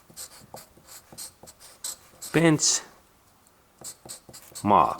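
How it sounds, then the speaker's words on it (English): Pen scratching on paper in short, quick strokes, fairly close, with someone talking over and between them. "I need paper, and I have to write in here this benchmark in data"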